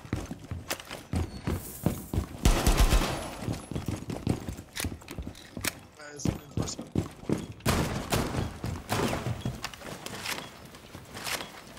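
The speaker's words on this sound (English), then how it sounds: "Stop shooting the wall." Rainbow Six Siege gunfire, with repeated sharp shot bursts striking a wall amid footsteps and scattered in-game noise, close and loud.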